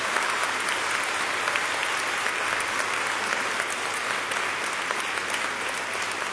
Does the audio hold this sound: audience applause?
yes